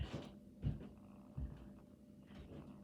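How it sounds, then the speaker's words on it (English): A faint, soft mechanical whirring with gentle rhythmic puffs from a Perfect Petzzz toy cat's breathing mechanism, like slow breathing, repeating roughly every second, quiet and close. "So there is the cat breathing."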